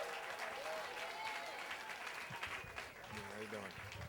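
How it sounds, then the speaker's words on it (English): A live storytelling show audience applauds as a storyteller comes up, a fairly faint, steady wash of many clapping hands with brief voices surfacing near the end. "let's keep the applause going for our next storyteller"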